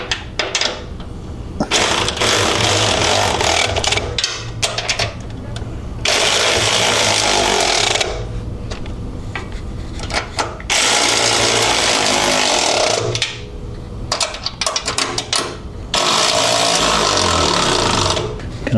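A power tool tightens bolts on a 1976 Jeep CJ-5 fuel tank, running in loud close bursts of rattling impact hammering several seconds long, separated by short pauses.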